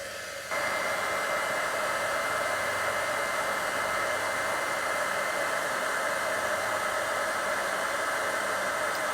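A heat tool runs up to temperature for card repair, a loud steady blowing hiss like a hair dryer that switches on and holds constant throughout.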